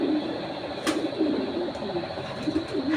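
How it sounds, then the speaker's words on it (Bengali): A female racing pigeon coos in low, repeated rolling phrases close by, with a brief sharp rustle partway through. "মাদি কবুতর"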